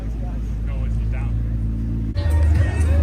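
A McLaren P1 supercar rumbles past at Monterey Car Week, a loud, close engine drone that swells sharply near the end, with crowd chatter around it.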